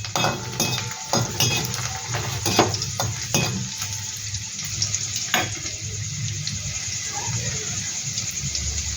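Chopped garlic and ginger stirred in a frying pan with a light sizzle, broken by several clinks and scrapes of a utensil against the pan, with a low background hum throughout.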